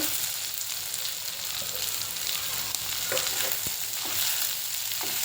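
Finely chopped onions sizzle in a pan with fried chilli thecha for a spicy Malvani prawn masala, a steady close frying hiss broken by a few light stirring clicks.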